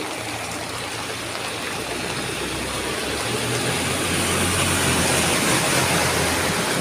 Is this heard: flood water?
yes